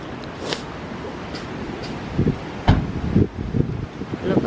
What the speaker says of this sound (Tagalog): Mahangin dito ngayon.